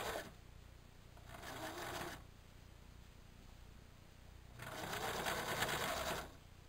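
A sewing machine stitches a hooded beach towel backpack in two bursts of steady, rapid whirring, each lasting a second or two, separated by a quiet pause.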